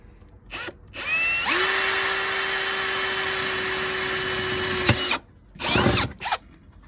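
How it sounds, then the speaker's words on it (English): A power drill whines at a steady high pitch for several seconds, biting through a 4x4's metal body, with short bursts of the tool before and after. "So I'm going to go ahead and drill that now."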